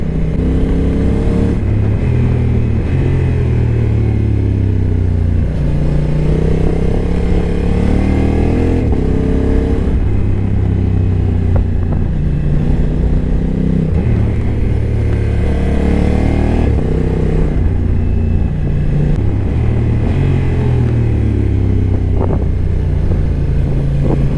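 A Honda NT 1100 motorcycle engine rises and falls continuously as it is ridden through the bends of a winding road, revving up out of corners and easing off into them, loud and steady with no talk.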